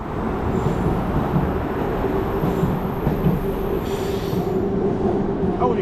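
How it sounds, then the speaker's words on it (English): SkyTrain metro train in Vancouver rounding a curve, heard from street level: a steady rolling rumble of wheels on the rail with a faint squeal from the curve, continuous and fairly close. "From street level, we get a great view of trains rounding the curve to and from downtown."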